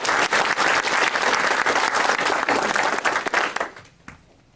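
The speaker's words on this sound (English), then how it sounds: "another round of applause for Chuck" A meeting audience at an amateur radio club gathering gives an award recipient a round of applause, steady dense clapping that tapers off near the end.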